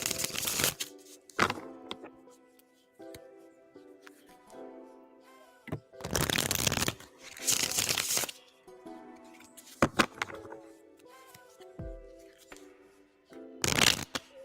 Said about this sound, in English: James, I'm shuffling for you now